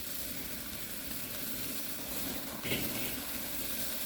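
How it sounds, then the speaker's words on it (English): A massive cowboy steak sears over direct heat on a grill, giving a constant close hiss and sizzle with a brief louder flare of spitting fat partway through. "we're just getting a little bit of a sear going on this"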